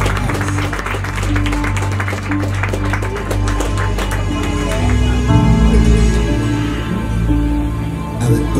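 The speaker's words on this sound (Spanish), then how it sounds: "Palmas al Señor." Wedding guests at a Lima ceremony clap together in a dense, steady patter that carries on throughout, with a low musical drone and some voices underneath.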